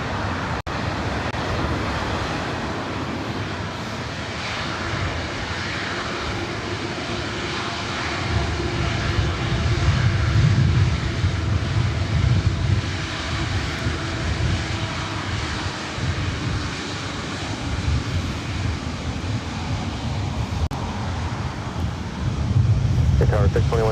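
An Airbus A350-900 airliner bound for Rome at LAX gives a steady, loud jet-engine roar that holds throughout and swells at times, with a breathy wind-like rush layered on top.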